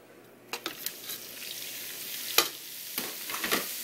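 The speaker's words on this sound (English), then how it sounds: "Now you can add your pork meat." Pork meat hits a hot pan with about a tablespoon of oil and sizzles softly and steadily up close, with a few sharp pops and clicks of a utensil scattered through it.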